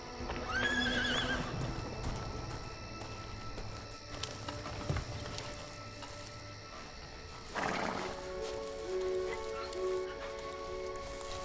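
Agitated horses whinnying and neighing, with hooves clip-clopping and shifting, a shrill neigh early and another burst later over steady background noise, moderately close and fairly faint.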